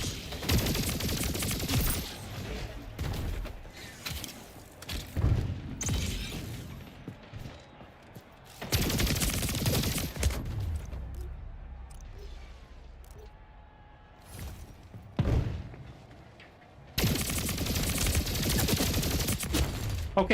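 Bursts of rapid automatic gunfire from the video game Splitgate 2, loud dense volleys separated by quieter gaps with scattered single shots and impacts.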